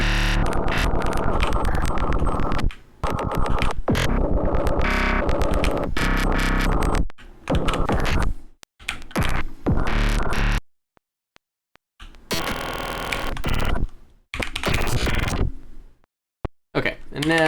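Harsh glitch synth bursts processed with a buffer effect and filter modulation, loud and choppy, stuttering in irregular blocks broken by sudden silences.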